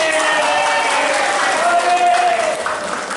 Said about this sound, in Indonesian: Wah, boleh tepuk tangan.